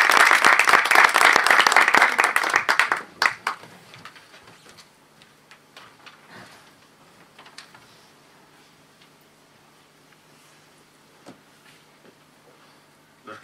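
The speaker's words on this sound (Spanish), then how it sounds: "si damos un aplauso" Hearty applause from the audience at a haematology conference on cell therapy, loud and thick for about three seconds before it quickly thins out into scattered claps and small taps in a quiet hall.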